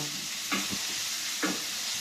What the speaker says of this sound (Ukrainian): трошки підсолила і смажу